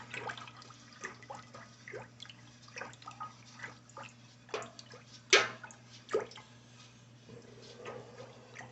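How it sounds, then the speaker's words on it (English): Spoon or whisk stirring honey into liquid for a peach mead, heard as light scattered clinks and soft liquid swishes over steady background hum, with one sharper knock near the end. "you kind of stir until there's no more honey sticking to your spoon or your whisk"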